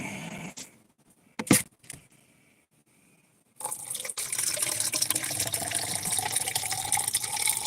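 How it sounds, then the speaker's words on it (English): Beer being poured: after a few soft knocks and near silence, a steady hissing, gurgling stream of liquid starts and continues unbroken to the end. "Sounds like I'm pouring a beer."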